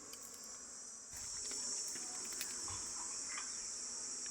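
Honey bees from a wild hive inside a tree trunk make a steady, close, high-pitched insect drone that grows a little louder after the first second and carries on without any talk.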